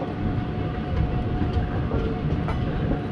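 The Pinakini Express rolls into Nidubrolu station with a loud, steady rumble and faint rhythmic wheel clatter, close and unbroken throughout.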